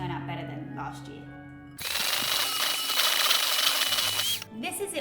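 Butter, sugar, egg and molasses being whisked for gingerbread: a loud, steady whirring rush starts after a voice speaks, runs for a few seconds, then cuts off as speech resumes.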